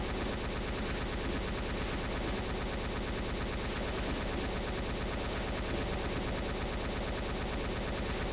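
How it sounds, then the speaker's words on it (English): A chaingun fires nonstop in Doom II, a dense, loud, rapid stream of shots that fills the whole stretch without a break. "Chain gun not that efficient"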